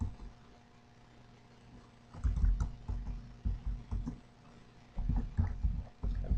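Keys clatter on a computer keyboard as a network scanning command is entered, brief bursts of close, quiet clicking in two clusters with pauses between.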